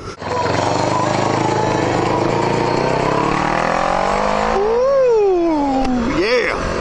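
A motorcycle engine revs loudly and pulls away from a stop, its pitch rising then sweeping up and down as it accelerates, close by and dominating the scene.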